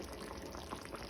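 Sago kheer with cardamom powder and a turmeric leaf bubbling in a pot on the stove, a faint, steady simmer with soft popping bubbles and no talk.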